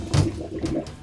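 Water mixed with Star San sanitizer sloshing about in a homebrewing container, a brief close burst of swirling liquid that fades to a softer wash, with no talk.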